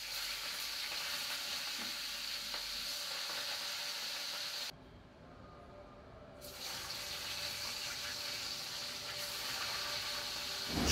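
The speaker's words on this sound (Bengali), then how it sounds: "তেলটা গরম হয়ে গেলে মাছগুলো একে একে লাল লাল করে এপিট ওপিট করে ভেজে তুলে রাখতে হবে" Pieces of katla fish fry in hot oil in a pan, a steady, close hiss and sizzle that drops away briefly partway through before returning at full strength, with no voices.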